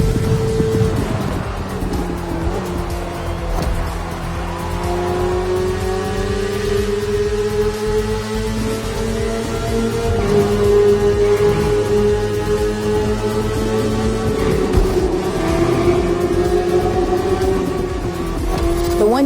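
A BMW S1000RR superbike's engine under riding, a steady loud high-pitched drone that rises and falls with throttle and gear changes, continuous throughout with no talk over it.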